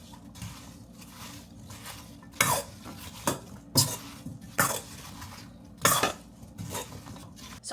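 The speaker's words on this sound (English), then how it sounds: "So I'm gonna mix this around and see how that's looking." A spoon scraping and clinking around a bowl of apple pie filling sweetened with honey, making several distinct clatters spaced about a second apart over a quiet kitchen background, close up.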